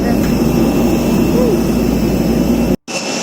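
A passenger airplane's jet engines roar loud and close just after landing, a broad steady whine with high tones that cuts out abruptly near the end before a quieter hum returns.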